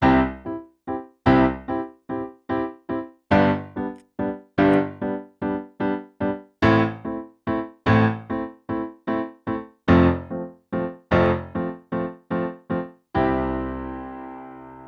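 Piano plays a driving rock pattern of steady, punchy repeated chords with a strong left hand, ending on a held, fading chord.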